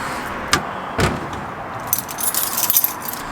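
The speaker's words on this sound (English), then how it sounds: "another little tip which I always have on my keys, I have a tin opener. So let's get this opened" Keys jangle on a keyring as a small tin opener attached to it is worked under the lid of a paint tin, with metallic clinks and scrapes and a couple of sharp knocks, close and outdoors.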